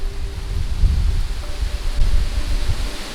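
Hurricane wind roars in uneven gusts near 65 mph, buffeting loudly and close, a broad rushing noise that swells and eases without pause.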